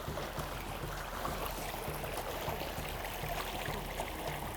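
River water flows steadily near a village outside Abuja, a soft continuous burble and trickle heard close by with no talking.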